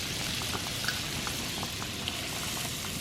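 Speckled trout fillets sizzling in melted butter in a hot pan, a steady, close crackling hiss with scattered small pops and spits throughout.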